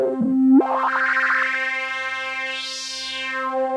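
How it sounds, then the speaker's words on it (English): A sustained synthesizer tone with heavy distortion holds a steady pitch, its gritty harmonics sweeping and swelling, loud and close with no talking. "I like the fact that you can have this distortion in it"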